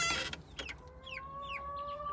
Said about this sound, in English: it's a hen, cause